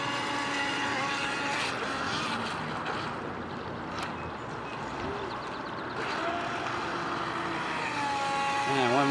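A Double Horse 7009 speedboat's small motor runs at full throttle with a steady buzzing drone, moderately distant and fairly quiet, over water and outdoor background noise.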